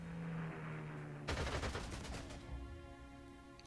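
In the video game Panzer Corps 2, a strafing run lets loose a sudden dense burst of rapid gunfire about a second in, loud and close. A droning tone plays before it and a fading tail follows.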